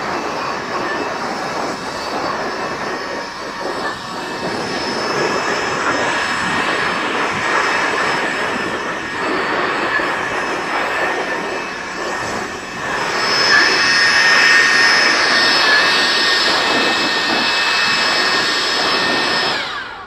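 A RIDGID 18V cordless jobsite blower blasts sawdust off a table saw outdoors, a loud, steady whooshing roar that swells louder midway and runs throughout, with no talking.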